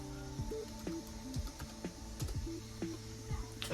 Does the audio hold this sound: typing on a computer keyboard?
yes